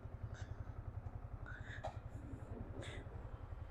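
Motorcycle engine running after a cold start, a low steady pulsing thrum close by, with faint whispered voices and small clicks over it.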